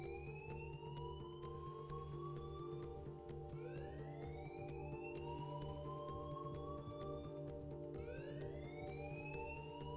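An alarm blares in Life is Strange, a looping siren tone that sweeps upward again and again over a steady droning hum, continuous and fairly faint, with no talk.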